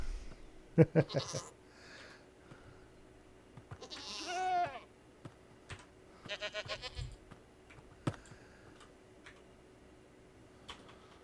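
Minecraft goats on a lofty mountain peak let out a clear, wavering bleat, with sharp clicks and ticks scattered before and after against a quiet backdrop.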